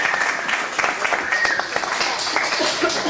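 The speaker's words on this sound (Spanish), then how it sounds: "luego que le damos un gran aplauso." An audience at a tuna performance history talk breaks into sustained applause, many hands clapping densely and steadily, with some crowd voices mixed in.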